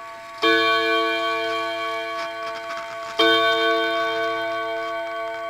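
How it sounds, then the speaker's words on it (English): A 1934 C. Rosenfelder German chiming mantel clock rings out two loud, close metallic strikes about three seconds apart, each leaving a long, ringing, harmonic decay, with no voices present. "Mantel clock."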